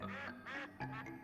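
Giant ducks in the video game Dink Smallwood give three loud, close, nasal quacks in quick succession, each one a drawn-out honk.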